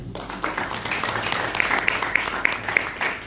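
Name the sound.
audience applause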